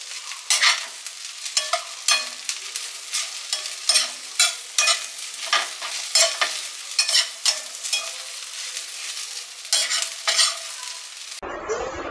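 Okra palya being stir-fried in a pan, with a soft sizzle under repeated scraping strokes of a spatula that come in an uneven rhythm, close and fairly loud, with no voices.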